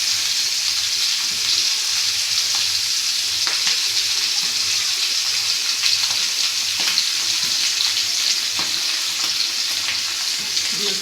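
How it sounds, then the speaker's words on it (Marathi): Mackerel (bangda) frying in a pan, a steady close sizzle with faint crackles and occasional soft pops running throughout. "तोपर्यंत हे फ्राय होतं आहे इथे."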